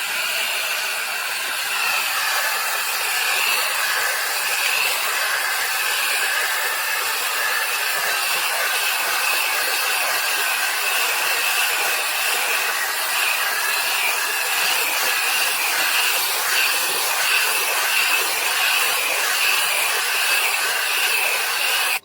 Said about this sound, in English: Okay, there's the steam mop. And now I'm going to do the grout.